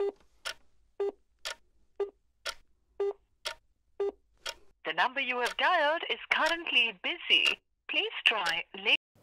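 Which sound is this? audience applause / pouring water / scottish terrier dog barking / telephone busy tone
telephone busy tone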